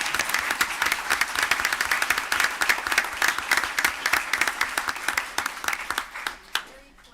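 A crowded city council meeting audience bursts into loud, close clapping with sharp individual claps clearly audible, sustained for several seconds before tapering off.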